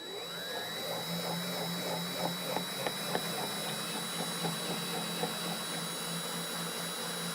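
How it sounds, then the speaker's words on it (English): A power drill whines steadily with a high tonal hum, spinning a brass cartridge case on a mandrel for neck turning, giving off a series of light rhythmic ticks and rattles. "Tighten it with the drill while on the mandrel."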